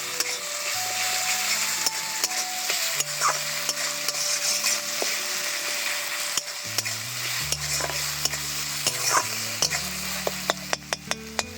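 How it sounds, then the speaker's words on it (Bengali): Chili, ginger and garlic for a mushroom masala are sautéed in a wok with a continuous sizzle, while a spatula scrapes and taps the metal in irregular clicks that grow busier toward the end. "এবার খানিকক্ষণ কষিয়ে নেবো এটাকে।"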